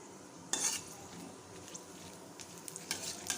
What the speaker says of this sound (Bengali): আমি সর্ষের তেল দিলাম। তেলের মধ্যে আমি তেজপাতা, শুকনো লঙ্কা আর দু টুকরো দারচিনি দিয়ে দিলাম।